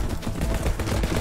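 Rapid gunfire from the video game Sword With Sauce, a loud, dense run of close shots with a fast rhythm across a brief burst, with no talk over it.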